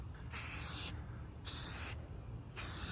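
Aerosol spray paint laying a light coat on a go kart part, three short hissing bursts of about half a second each separated by quiet pauses, close and fairly faint.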